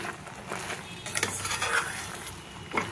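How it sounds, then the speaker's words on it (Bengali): Sesame seeds and crushed peanuts are stirred into melted jaggery in a pan for barfi, producing repeated scraping strokes of a spoon against the pan over a low sizzle, close and fairly loud. "এইবার এই গুড়ের সাথে খুব ভালোভাবে নাড়াচাড়া করে দেব"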